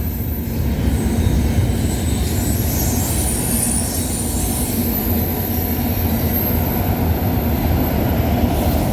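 A freight train with distributed power unit locomotive 8942 rolls past at night beside Cobourg VIA station in Ontario, a loud continuous rumble of wheels and cars with a high metallic wheel squeal running over it.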